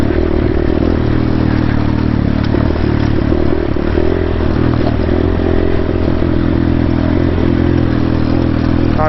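A GPX dirt bike ridden along Hobble Creek Canyon single track: a loud, continuous engine drone fills the whole stretch, with clattering and rattling from the rough trail layered over it and no voices.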